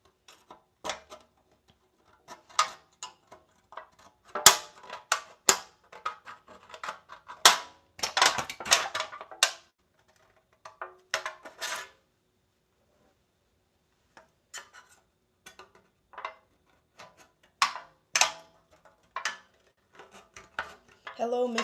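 Scissors snip petals out of a thin aluminum drink can in short, sharp metallic clicks and crinkles, close and scattered, with quiet gaps between cuts and a voice speaking now and then.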